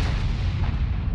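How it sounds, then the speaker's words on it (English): An artillery gun fires in a tank video game, a single heavy boom with a deep rumbling low end that fills the short moment, close and loud. "This is a good artillery."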